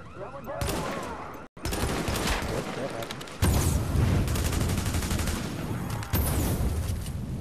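Dense bursts of gunfire from The Division's Dark Zone rattle almost without pause, loud and close. One brief drop interrupts the barrage before heavier volleys take over.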